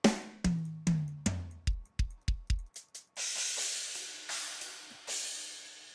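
A free software drum kit plays a pattern: punchy kick and tom hits in a steady groove, then crashing cymbals washing over the beat, loud and close with no voices.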